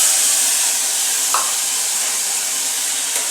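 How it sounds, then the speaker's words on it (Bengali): Sliced onion dropped into hot oil already seasoned with bay leaf and dried red chilli, giving a steady, fairly loud broadband sizzle throughout with a brief stir around the middle, while an egg curry is being cooked. "পেঁয়াজটাকে ছেড়ে দিই।"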